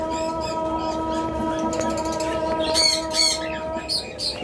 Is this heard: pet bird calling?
yes